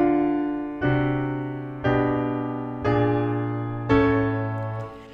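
Piano chord progression whose top voice rises chromatically against a bass moving in contrary motion: five sustained chords struck one after another about a second apart, each decaying before the next, with no talking.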